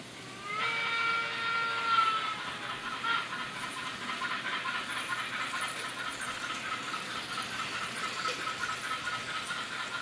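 A Marklin BR39 model steam locomotive's sound function plays a continuous hissing, chuffing steam effect with a faint metallic rattle and a brief whistle-like tone near the start, steady and moderately quiet throughout.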